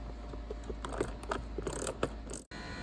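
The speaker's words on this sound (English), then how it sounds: "Now we can remove the 10mm socket from underneath the fuse box." A socket wrench turns a 10mm bolt out from under a Saab fuse box, giving close, soft ratcheting clicks in an uneven rhythm over a steady low hum, ending with a brief cut.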